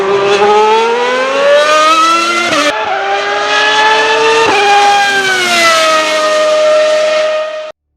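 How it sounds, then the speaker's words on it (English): A 1995 Ferrari 412 Formula One car with a 3-litre V12 screams at very high revs, loud and close, its pitch climbing and dropping through gear changes with brief breaks, sustained for about eight seconds with no talk. "That was the 1995 Ferrari 412, and that is the sound many of us imagine when we think of a Formula One car."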